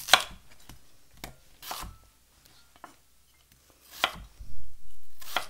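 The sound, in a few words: chopping potatoes into chunks with a knife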